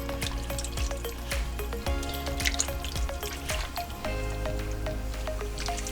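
Canned sauce being poured from a pop-top can over stuffed peppers in a pot, a wet squishing, dripping stream with small splats, steady and close, no talking.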